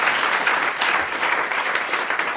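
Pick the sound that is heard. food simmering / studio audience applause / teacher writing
studio audience applause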